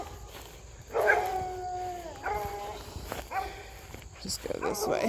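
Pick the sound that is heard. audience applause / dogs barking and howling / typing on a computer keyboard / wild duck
dogs barking and howling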